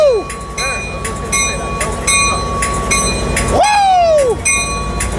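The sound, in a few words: passenger train led by locomotive 451 departing Oceanside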